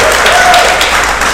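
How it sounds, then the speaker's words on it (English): Audience applause at a live podcast-style talk show, a steady dense clapping wash that stays loud and close from start to finish with no voices on top. "Keep applauding as we go."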